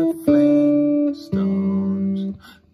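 A jazz guitar plays the opening phrase of the Flintstones theme melody, two sustained chords or notes ringing close and clear with a short gap between them, alone without talk.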